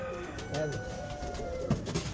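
Pigeons coo softly at close range in a short, quiet stretch, with a few low murmuring calls over faint background noise.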